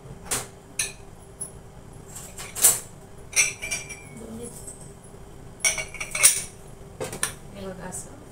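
A large metal plate clanks onto a cooking pot, then a weight is set on top, giving several sharp close clinks and scrapes of metal on metal spaced over a few seconds.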